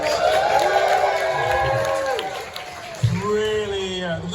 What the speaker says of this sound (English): Can we practice the cheer coming up?